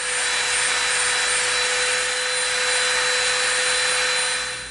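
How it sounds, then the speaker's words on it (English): A Dremel rotary tool rounds the top edges of EVA foam circles, giving a steady, loud high-pitched whine with broadband grinding hiss that holds without a break for the whole stretch and tapers slightly at the end. "Now we're going to get the Dremel. We're going to round our top edges."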